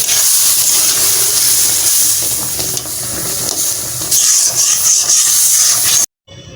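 Broth poured into a pan of fried spices for a fish curry with potatoes, giving a loud, steady hiss and sizzle with stirring scrapes, cutting off abruptly near the end.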